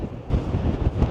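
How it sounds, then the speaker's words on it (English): Strong wind on a beach in Ireland buffets the microphone in a steady, loud low rumble with gusting surges. "It's very windy here."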